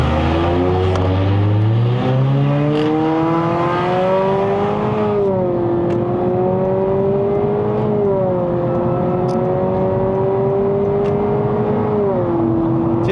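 A 2025 Honda Civic FE RS facelift accelerating at full throttle from 0 to 100 with the air conditioning off, heard from inside the cabin as a loud, steady engine drone climbing in pitch, levelling and climbing again.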